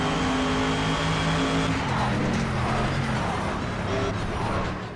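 A Mercedes AMG GT3 race car at the Nürburgring in Project Cars roars at high revs, loud and continuous with a steady engine tone that shifts slightly in pitch as it drives.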